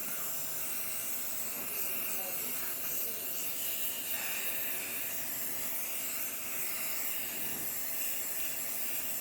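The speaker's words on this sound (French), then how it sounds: "Vous avez juste à le secouer et à le vaporiser." A can of cooking spray is shaken and then sprayed, giving a steady broad hiss that runs through the whole stretch at close range, with no talking over it.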